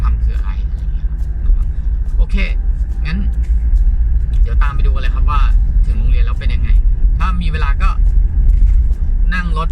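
A pickup truck driving on a rough, bad road makes a constant loud low rumble throughout, with a voice talking over it.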